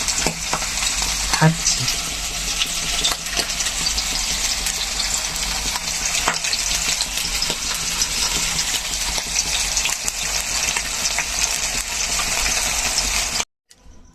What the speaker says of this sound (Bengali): মাছ আমি ধুয়ে নিয়েছি, এখন ভেজে